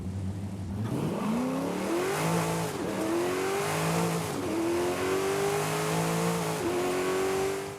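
A Chevrolet Camaro engine in Forza Horizon 5 revs up and shifts through gears repeatedly, rising whine climbing and dropping, loud and continuous, with the clean sound of a racing game.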